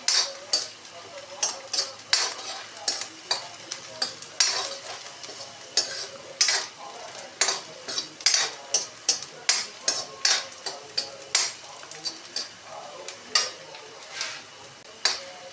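Onions browning in a pan for a besan bhurji, with a steady sizzle broken by a quick run of sharp scraping clicks as a spoon stirs them, close and fairly loud, with no talking.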